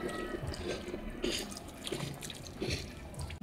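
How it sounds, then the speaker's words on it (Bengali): Water poured over a potted star fruit plant, splashing and trickling steadily into the soil and pot for a few seconds, close by and fairly quiet, with no talking. "গাছে ভালোভাবে জল দিয়ে দেব।"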